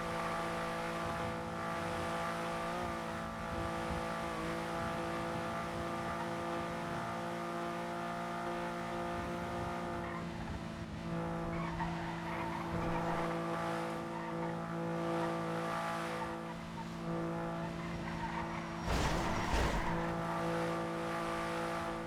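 Car driving noise in the NoPixel GTA V roleplay game, a steady droning engine hum with faint tire and road sounds running throughout and a brief louder burst near the end.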